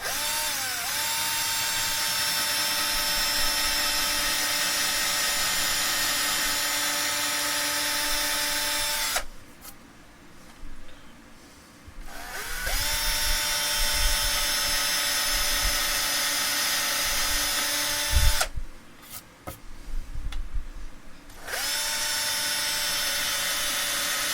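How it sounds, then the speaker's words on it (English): A small electric drill with a 1mm bit whines steadily in long bursts while drilling screw holes for an electric guitar bridge, broken by two short pauses with clicks and handling noise, close by. "I'm just using a 1mm drill bit for the screws."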